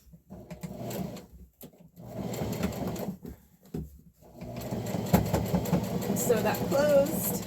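A sewing machine stitches a channel closed on a peasant blouse made from thrifted sheets, running in several close bursts with short pauses, and the last burst is the longest.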